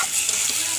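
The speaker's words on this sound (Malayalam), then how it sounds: "കടുക് പൊട്ടിച്ചത്." Mustard seeds splutter in hot oil along with fenugreek, dried red chillies and curry leaves for sambar, giving a brief, close crackling sizzle.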